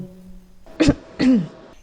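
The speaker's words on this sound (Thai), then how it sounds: "กระแอมเสียงดังเหมือนจงใจ" Two short, forceful throat-clearing bursts close by, the second longer and deeper, over a faint steady hum.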